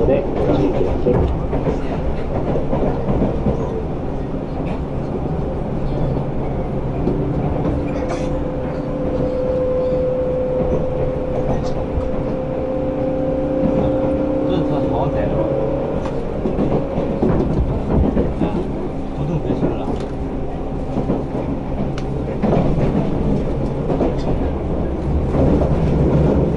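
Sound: electric train running on rails

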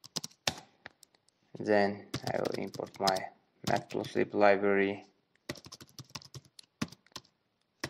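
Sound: typing on a computer keyboard

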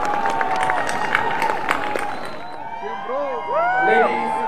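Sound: applause for cultural troupes at the Hornbill Festival

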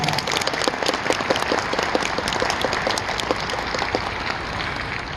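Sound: audience applause for children's choir

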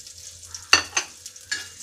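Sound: cashew nuts and raisins frying in ghee for banana payasam

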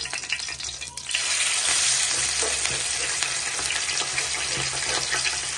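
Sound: fish frying in hot oil

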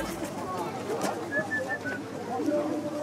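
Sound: birds, likely pigeons, nearby

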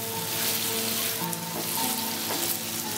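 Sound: taro greens stirred and frying with spice paste

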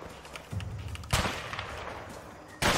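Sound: gunfire volley in a prison escape video game

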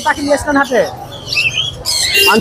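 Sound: lory parrot squawking at a bird market

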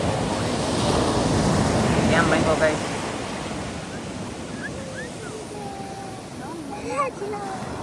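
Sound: sea waves washing up on the shore

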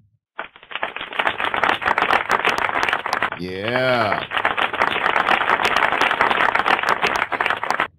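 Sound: applause sound effect played on a live stream

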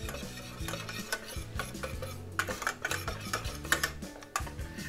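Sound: stirring honey into chocolate crackle mixture

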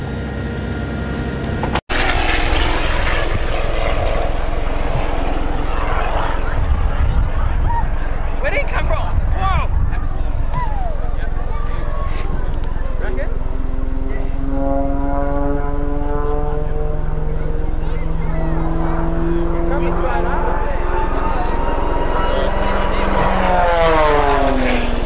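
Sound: Tiger Moth stunt biplane flying over river

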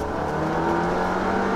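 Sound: Seat Leon Cupra accelerating in sport mode

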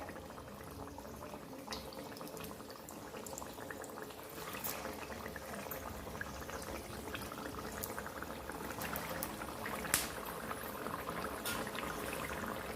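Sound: semolina potato vada frying in oil

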